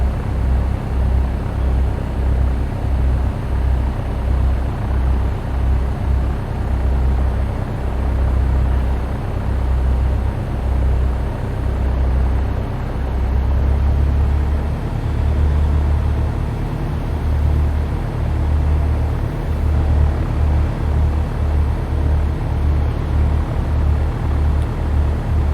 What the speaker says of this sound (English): as we're taxiing, just keeping an eye out around the aircraft